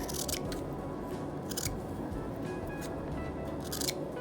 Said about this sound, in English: mark it and then cut it out